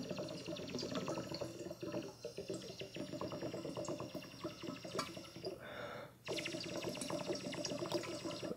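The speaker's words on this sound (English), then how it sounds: "And with each breath, the bubbles going in pushes water out." Air bubbles blown through a tube into an upturned glass of water, pushing the water out; a steady, close bubbling and gurgling churns continuously, with one brief dip before it resumes.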